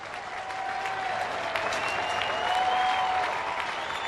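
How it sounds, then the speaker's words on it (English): Steady applause from a baseball stadium crowd, a broad continuous wash of clapping at a distance with a faint whistle-like tone running through it. "Crowd's giving him a hand"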